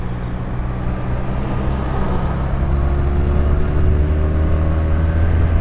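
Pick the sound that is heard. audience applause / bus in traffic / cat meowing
bus in traffic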